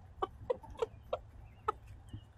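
Several short, sharp clucks from chickens excited over a treat, in quick uneven succession, fairly close and moderately loud against a quiet background.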